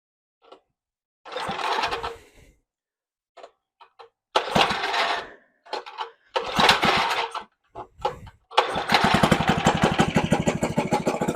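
A refueled Tecumseh small engine is pulled over in several short bursts of sputtering and cranking with pauses between them. It then catches and runs with a loud, steady, rapid firing rhythm close by.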